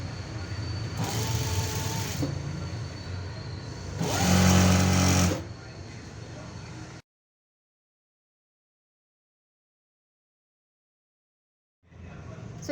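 A sewing machine stitching a puff sleeve to its lining gives two short bursts of close motor whir with rapid needle clatter, then the sound cuts to full silence before resuming briefly at the end.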